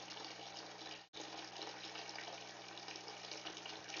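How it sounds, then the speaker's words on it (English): Water pours steadily into an aquarium tank during a water change, a constant close gushing broken by one brief gap near the start, over a faint low hum. "I have a little mark on the tank where I can do the water change"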